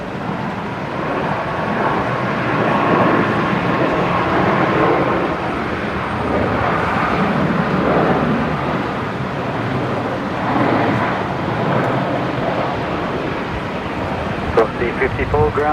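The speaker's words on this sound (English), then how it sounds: "The Max 8 just arriving from Port Villa." A Boeing 737 Max 8 arriving at Brisbane Airport from Port Vila, a broad steady jet rumble and whine at middle distance, fairly loud throughout, with faint voices underneath.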